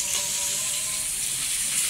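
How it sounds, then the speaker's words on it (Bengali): Fish frying in a pan in a home kitchen, a steady bright sizzle that hisses continuously at close range with no talking. "মাছ ভাজা চলছে"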